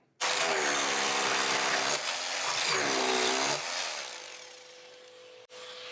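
A drill with a regular SDS concrete bit bores into wood, giving a loud, close, grinding whir that strains and shifts pitch twice before dropping off, then briefly restarting.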